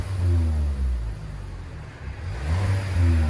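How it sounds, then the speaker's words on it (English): A 2020 Kia K5 GT-Line turbo four-cylinder with straight-pipe exhaust and a high-flow catalytic converter revs twice, a deep droning rise that dips between blips, loud and close. "Oh, he is revving it."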